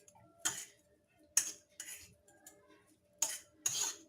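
Fish stuffing ingredients are mixed in a bowl, heard as a few sharp, separate clinks and taps of a utensil against the bowl spaced over a few seconds in an otherwise quiet room.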